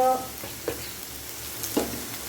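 Onion and tomato paste frying in a pan gives a low, steady sizzle, broken by a couple of soft stirring knocks, heard close with no talking.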